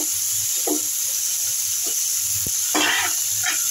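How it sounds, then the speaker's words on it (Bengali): Chopped tomato and chili fry in a pan with a steady bright sizzle, occasional soft stirring scrapes and clicks breaking through the hiss. "এবার এগুলোকে একটু ফ্রাই করবো।"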